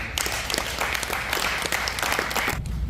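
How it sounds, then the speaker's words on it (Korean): Warm applause from an audience at a church elders' retreat, as a pastor is welcomed to the stage for a special lecture; dense, sustained clapping fills the room for nearly three seconds, then drops off abruptly. "뜨거운 박수로 환영해 주시기 바랍니다"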